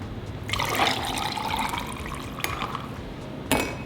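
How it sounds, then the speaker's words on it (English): Whisked matcha is poured into a cup, giving a close, steady liquid trickle and splash for a few seconds, ending with a couple of small clinks. "So I'm gonna use this guy and pour the matcha into the cup"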